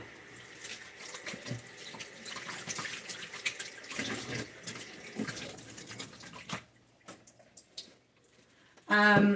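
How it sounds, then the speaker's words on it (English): Running tap water splashes over hands at a kitchen sink during cooking, a steady broadband wash that runs close up and ends with a brief louder clatter at the basin. "Let me rinse my hands off."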